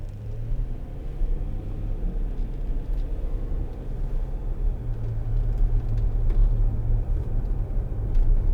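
A Land Rover Discovery 3 2.7 TD V6 HSE on the move, heard as a steady low engine and road rumble from inside the cabin, swelling slightly toward the end, with no talking.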